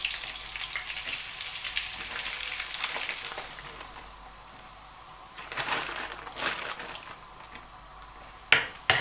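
Flour frying in hot Egyptian ghee (samna baladi) for a white sauce: a steady soft sizzle with faint crackle fills the pan throughout, with a few sharper stirring scrapes and a clink near the end.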